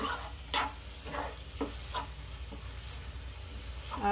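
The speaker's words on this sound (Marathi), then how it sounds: "आता याला स्लो आचेवर छान मिक्स करायचं आहे आणि असं फिरवत राहायचं आहे" A spoon stirs green chili chutney in a pan over a low flame, giving a series of soft scraping strokes at a steady rhythm over a faint sizzle, close and quiet.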